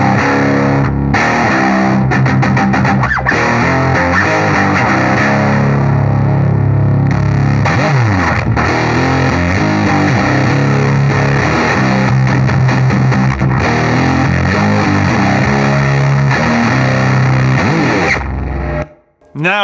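A distorted electric guitar played through a boost pedal plays a driving, repeating riff with saturated, crunchy tone, loud and continuous, ending abruptly near the close.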